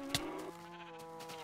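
A cow being killed in a farming video game gives a short, sharp bleat-like animal cry followed by a steady tonal game sound, heard up close with no talking.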